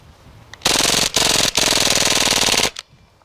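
Airsoft VORSK VMP-1 submachine gun firing on full auto: three loud, close bursts of rapid mechanical rattling, separated by brief gaps, with no talk over them.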